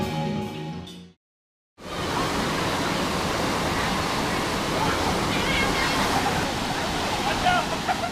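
Water rushes steadily down a natural rock water slide in South Carolina, a loud continuous broadband roar heard up close after a brief snatch of music cuts out.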